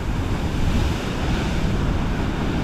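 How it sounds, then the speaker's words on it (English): Powerful surf pounds against rocky shoreline on the Big Island on a rough morning, a constant loud roar of breaking waves with wind buffeting the microphone throughout. "you can see how powerful the waves are"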